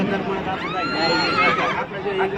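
A horse neighs at a horse show in Kama, giving a long, loud whinny that rises and wavers across a couple of seconds, close by, with crowd chatter and talk underneath.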